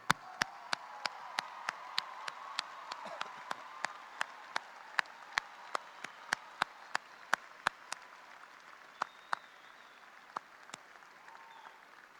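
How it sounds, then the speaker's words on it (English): Applause from a large commencement audience honoring school district staff at a high school graduation, a distant wash of clapping with sharp isolated claps popping out over about twelve seconds, fairly faint and fading toward the end. "please stand so that we can thank you with a big round of applause"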